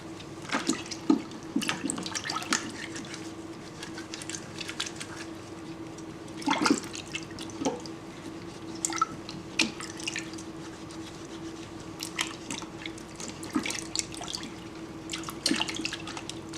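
Fermented cassava is washed by hand in a basin of water, with repeated splashes, sloshing and dripping coming in irregular bursts close by, quiet between strokes.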